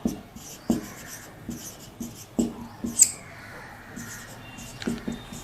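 Chalk or marker on a classroom board during a chemistry lecture, irregular short taps and scratchy strokes in uneven bursts, fairly faint and close, with no speech.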